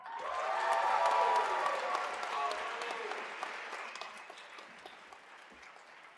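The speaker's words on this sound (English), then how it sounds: "Let's have another round of applause for our students." Audience applause fills a white coat ceremony for a dental medicine class, a dense roll of clapping that swells loud in the first seconds and then gradually thins and fades.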